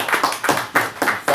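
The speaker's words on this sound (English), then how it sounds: "I gotta clap for that" A person clapping hands during a conversation, five or six sharp, evenly spaced claps at close range, loud and distinct with no speech between them.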